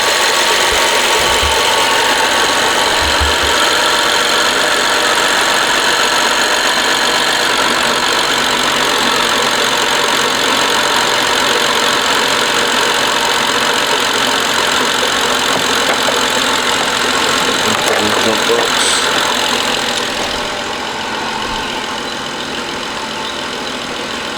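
A BMW X5 E70 with the N55 engine and an aftermarket BHP cold air intake idles steadily and close, a continuous even hum with a faint low pulse, settling slightly quieter near the end.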